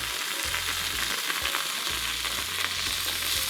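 Cheese sizzling on a lightly oiled pan for Dominican plantain tortilla tacos, a steady dense crackle that fills the whole stretch, close and even with a low hum beneath and no voices.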